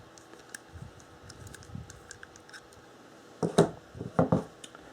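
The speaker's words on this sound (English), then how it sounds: "The scissors do ride in here very nicely. They slide right in and they lock in." A few sharp metallic clicks near the end, a quick double snap of Leatherman Raptor multi-tool scissors locking into place, after quieter faint ticking.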